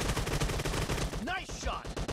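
Gunfire in a PUBG team deathmatch, a fast dense string of shots running throughout, fairly faint, with brief voice chirps and in-game announcer lines over it.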